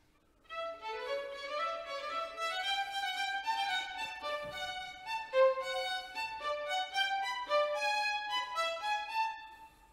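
A Bach fugue theme played on instruments, with a single clear melodic line of quick, evenly paced notes in a baroque style, moderately quiet and close with no talking.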